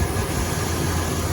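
A Ford Fox with a 3.8-liter engine with nearly 500,000 kilometers on it idles steadily, a close, even low rumble with no speech over it.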